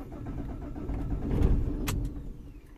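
A 2007 Vauxhall Vectra with a Z19DT diesel engine cranks without catching after an engine swap, a steady low churning that swells in the middle and fades without a start, with no voices.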